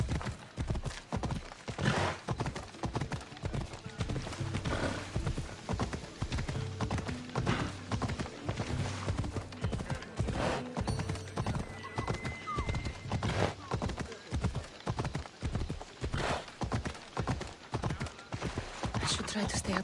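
Horse hooves pound in a steady galloping clip-clop throughout a ride in the video game Assassin's Creed Odyssey, with an occasional whinny and game music and voices mixed in.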